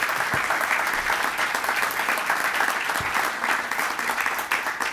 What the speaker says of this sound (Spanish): Un gran aplauso, por supuesto, a Telman Urguelles.